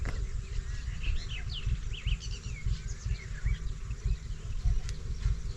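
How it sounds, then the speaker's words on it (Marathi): Crows and mynas chirp and call in scattered bursts over a loud, pulsing low rumble close by. "कावळं साळुंक्या कोक्या सगळं पक्षी आले"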